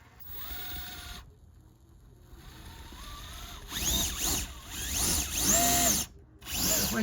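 An SCX30 RC crawler fitted with a Furitek NanoModo motor drives over terrain, its small electric motor whining and rising and falling in pitch as the throttle changes, faint at first and growing louder.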